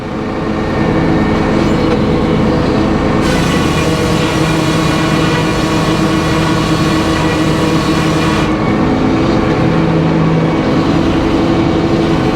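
A sawmill carriage runs back and forth while cutting 10-foot 1x6 form lumber, giving a loud, steady mechanical roar and clatter that continues throughout with no talking.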